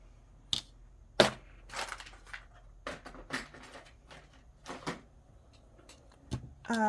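A small plastic four-sided die is handled and rolled, giving several sharp clicks and rattles spread across the span, with quiet rustling between them.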